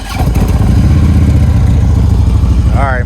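Harley-Davidson Road King motorcycle engine cranking and catching, a loud, close, continuous rumbling roar with a heavy low throb throughout.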